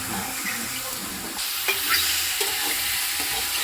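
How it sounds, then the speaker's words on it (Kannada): Mushrooms for a pepper dry sizzle in a pan while a spoon stirs them. The frying hiss is close and steady, broken by a few soft scrapes and clicks of stirring, with no voices. "ಫ್ರೈ ಆಗ್ತಿದೆ, ಹಾಗೆ ಸ್ವಲ್ಪ ಸಾಫ್ಟು ಆಗ್ತಿದೆ."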